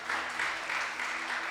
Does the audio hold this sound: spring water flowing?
no